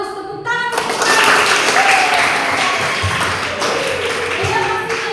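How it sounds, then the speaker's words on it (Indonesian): Students applauding in a classroom, a dense burst of clapping lasting several seconds after a brief spoken moment, with voices audible over it. "tepuk tangan"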